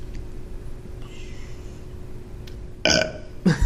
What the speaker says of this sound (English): the good old burp